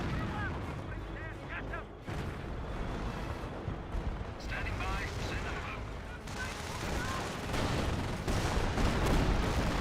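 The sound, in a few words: artillery fire from a 25-pounder howitzer in video game Company of Heroes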